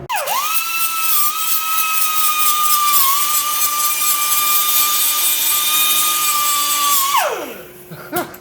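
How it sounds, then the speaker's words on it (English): A power grinder wears down the rivet head on a Yamaha R1M motorcycle chain, holding a loud, steady, high whine for about seven seconds before spinning down, with a few light knocks afterward. "We got the rivet head ground down."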